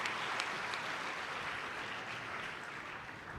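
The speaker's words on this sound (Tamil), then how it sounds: "திருவள்ளூர் மக்கள் மிக அற்புதமாக வரவேற்பு கொடுக்கிறார்கள் கைதட்டுகளோடு" Audience applause welcoming a comedy speaker on stage at a Tamil event in Tiruvallur, a steady wash of clapping that holds evenly throughout at a fairly soft level, with no talk over it.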